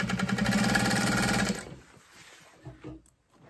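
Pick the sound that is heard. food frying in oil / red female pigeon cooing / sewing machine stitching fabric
sewing machine stitching fabric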